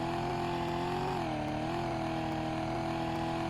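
Car engine in a video game drones steadily at constant pitch with slight rises, a continuous mechanical hum without speech.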